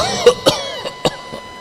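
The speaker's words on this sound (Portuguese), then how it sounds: "mas eu vou tossir" A series of coughs, four or five dry bursts spaced unevenly, close and fairly loud, with no talking.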